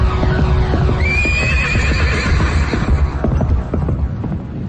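A cartoon flying horse neighs loudly, a rising whinny with a wavering high tail, over a rhythmic thudding of hooves and a low throbbing hum.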